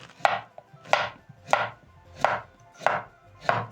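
A knife chops potatoes on a cutting board in six crisp, evenly spaced strikes, each a sharp close knock, with no talking.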